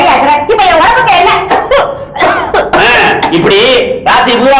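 An elderly man suffering from a cough in a Tamil comedy drama gives loud, close throat-clearing coughs mixed in with talking.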